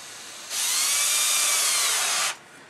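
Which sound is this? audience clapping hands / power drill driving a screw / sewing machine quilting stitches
power drill driving a screw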